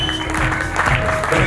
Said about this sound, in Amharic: ጭብጨባ ያስፈልጋል።